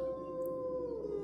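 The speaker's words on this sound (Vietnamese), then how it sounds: "tiếng chó tru lên từng hồi ghê rợn" Dogs howl in drawn-out, wavering cries that slowly bend in pitch, a steady eerie wail with no talking over it, set as an ominous night sound for a horror ghost story.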